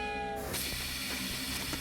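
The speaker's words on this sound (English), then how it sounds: "The train, why has it stopped here?" A train moving along railway tracks, a steady dense rumble with harmonic whine at the start settling into continuous rolling noise with faint rhythmic clacks, close and sustained throughout.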